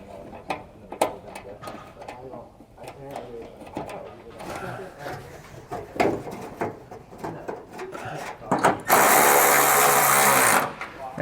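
A power tool drives hitch hardware bolts while a Curt trailer hitch receiver is reinstalled on a 2016 Mercedes-Benz GLE. A loud, steady whir of about two seconds comes near the end, after scattered clanks and handling noises with people talking.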